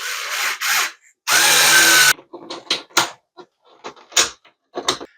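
A power drill drives a couple of screws into a wall to hang a mirror and hooks, with two short whirring bursts followed by a longer sustained run, then scattered light tapping and handling noises. Up close and fairly loud.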